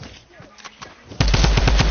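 Gunfire in the video game Fortnite: faint scattered shots give way to a loud, rapid burst of repeated gunfire, with a voice briefly audible early on.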